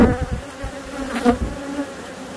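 Honeybees buzz at close range around two hives, a dense droning hum with shifting pitch as individual insects pass near.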